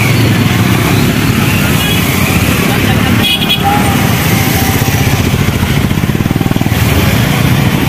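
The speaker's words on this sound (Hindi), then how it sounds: "ये काफी सारी बाइकें हैं यहाँ पे, रैली हो रही है अभी बनी में।" A crowd of motorcycles and bikes gathered at an Independence Day rally, with steady loud engine noise, traffic rumble and occasional horn toots close by, while people talk over the din throughout.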